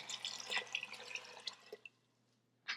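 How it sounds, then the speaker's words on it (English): Water pours into a pot of chickpeas, a light close trickle breaking into soft drips that fade out, followed by one brief splash at the end. "And then we're going to put in water."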